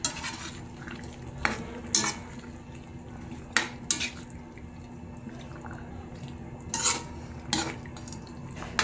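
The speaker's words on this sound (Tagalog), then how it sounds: "Haluin ko lang, wait lang." Food is stirred in a cooking pot, with a spoon clanking and scraping against the metal in scattered bursts over a low simmer.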